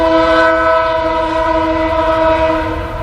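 A passing train sounds its horn in a long, loud, sustained chord that holds steady for several seconds with a low rumble beneath, close enough to drown out everything else.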